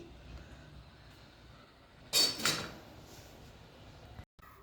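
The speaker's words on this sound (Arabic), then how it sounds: "هحط عليهم بقى براد الشاي كده، ونعمل احلى كوبايه شاي بالقرنفل" A metal teapot is set down onto hot charcoal for brewing clove tea outdoors, giving a short double clank with a brief scrape in the middle of an otherwise quiet stretch.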